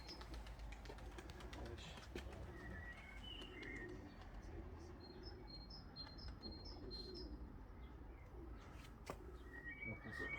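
A racing pigeon returning to its home loft during a cup race, with soft cooing and chirping from pigeons over a steady outdoor background hum, faint and continuous with no talk.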